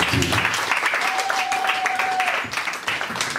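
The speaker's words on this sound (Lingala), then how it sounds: "Je constate que vous avez applaudi de façon timide" Audience applause at a foundation event honoring its founder, light scattered clapping from a crowd continuing steadily for a few seconds, with a faint tone and background murmur mixed in.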